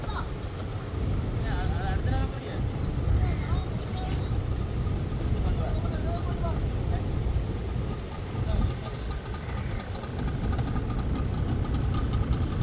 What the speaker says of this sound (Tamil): நாயாற்றில் 10 படகுகளுடன் கடற்படையினர் மக்களை ஏற்றி இறக்கும் நடவடிக்கையில்